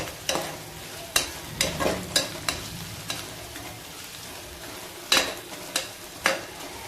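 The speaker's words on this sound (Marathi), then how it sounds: "आता अद्रक आणि लसूण यांचा थोडा स्मेल चेंज होईपर्यंत आपण परतून घेऊ" Green chilli, ginger and garlic paste sauté in a pan while a spoon stirs and scrapes, giving irregular sharp clinks over a steady sizzle.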